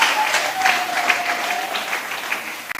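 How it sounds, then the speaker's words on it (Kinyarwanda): An audience claps loudly and steadily, a dense wash of applause at a cultural competition finale, sustained without a break. "Reka mbasabe bose bahaguruke mubakomera amashyi menshi cyane."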